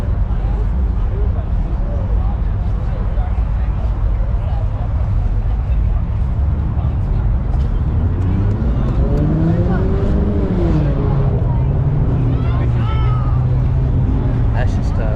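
Straight-piped Shelby GT350 in city traffic, a loud raw exhaust drone throughout that swells into a revving rise and fall near the end, with people talking over it.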